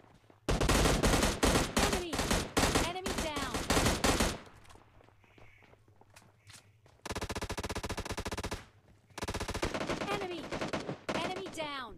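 Gunfire in PUBG Lite, a mobile battle royale game, loud and close: long, rapid bursts of automatic fire broken by short pauses, with a few scattered single shots in the quieter stretch.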